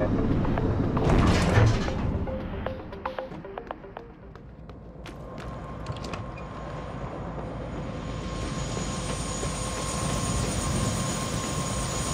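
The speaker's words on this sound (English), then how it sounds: "Heard there's a chopper on the roof." A helicopter on a rooftop in the video game Prey, a broad mechanical rumble and whine that holds steady and swells toward the end, mixed with game sound effects and clicks, no talk.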